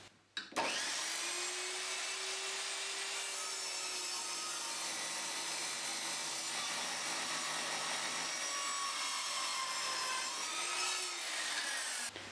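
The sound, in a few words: mitre saw cutting architrave wood at 45 degrees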